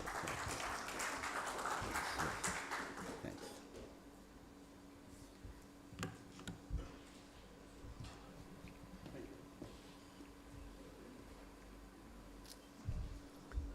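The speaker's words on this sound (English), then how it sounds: "I thought we could have clapped a little longer or louder" A conference audience at a poultry industry conclave applauds in a brief round of clapping that fades within a few seconds, leaving quiet room noise with scattered faint clicks.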